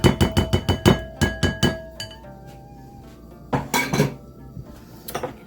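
A spoon clinks and knocks repeatedly against a large ceramic bowl while ricotta cheese is scooped in, a rapid run of bright taps, a quieter pause with faint ringing, then another cluster of clatters, no voices.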